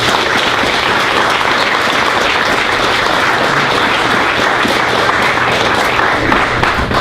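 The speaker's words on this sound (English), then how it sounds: "I'd like for all of us to kind of give a round of applause to these people" Loud, continuous audience applause fills a state board of education meeting, a dense and even wash of clapping that holds steady for about seven seconds.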